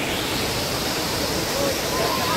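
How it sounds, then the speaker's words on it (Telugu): The Sivakona waterfalls give a steady, dense roar of rushing water, loud and constant, with faint voices underneath. "ఫైనల్ గా వాటర్ ఫాల్ కి వచ్చేసాం."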